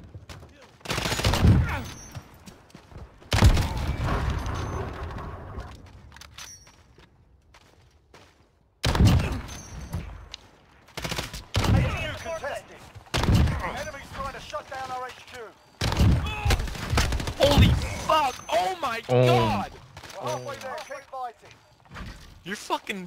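Shotgun blasts in an online shooter game, loud booming shots spaced irregularly in separate bursts with short quiet gaps, alongside mechanical clanks and players talking excitedly between and over the shots.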